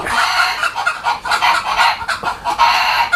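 Several chickens cluck and squawk repeatedly at close range in a rural home kitchen setting, a busy, continuous run of overlapping calls with no talking.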